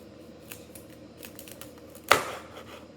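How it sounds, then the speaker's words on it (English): Broccoli is sliced with a knife for Italian sausage pasta, giving one crisp crunching cut on a board after some quiet handling noise, close by and with no talking. "So if you have broccoli, you're just gonna cut it right here."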